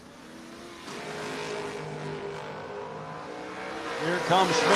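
An LS-powered Dodge Dart and a Chevrolet Monza race side by side at a No-Box 660 drag racing shootout. Distant engine roar builds and climbs toward the end while a commentator talks over it.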